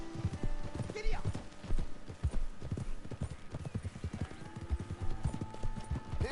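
Horse hooves clip-clop at a steady gallop in the Red Dead Redemption 2 video game, with a brief whinny, loud and close, while voices talk over the hoofbeats.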